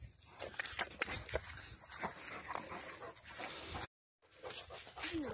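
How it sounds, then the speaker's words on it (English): Neighbor's dogs, including a puppy, moving around outdoors near a bungalow under construction, with close panting, snuffling, whimpers and scrabbling footsteps in a busy, continuous stretch, briefly cut by a gap of silence. "Well, the neighbor dogs are back."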